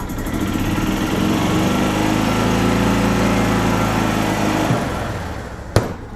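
A 2004 Club Car Precedent gas golf cart engine runs loud and steady with a buzzing, high-revving drone close by, then cuts off abruptly near the end, followed by a sharp click.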